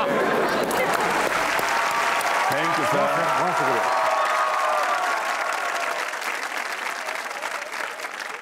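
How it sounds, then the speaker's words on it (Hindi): Studio audience applause on a Pakistani comedy talk show, a loud, steady wash of clapping filling the whole stretch while someone speaks a few words over it. "अभी तालियां मचा के रखिए"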